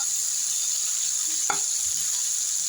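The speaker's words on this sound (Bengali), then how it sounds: "আর পেঁয়াজ, রসুন আর কাঁচা লঙ্কা চেরা দিয়ে দেবো আলুর মধ্যে, দিয়ে ভালো করে এগুলা ভেজে নেব।" Potatoes fry with onion, garlic and slit green chilies in a pan, a steady, even hiss with a single utensil tap partway through and no talk.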